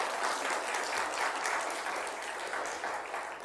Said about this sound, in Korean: 박수 한번 주겠습니다.